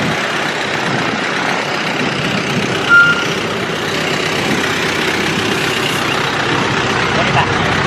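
Bus idling at a Nepal bus station, a low rumbling engine under busy outdoor noise and chatter, with a brief beep around the middle.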